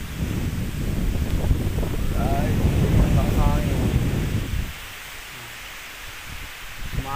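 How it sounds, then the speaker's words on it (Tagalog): Heavy typhoon wind roars and buffets the microphone, loud and gusty for several seconds before dropping to a quieter rush, with coconut trees swaying at a corn farm. "Lakas ng hangin."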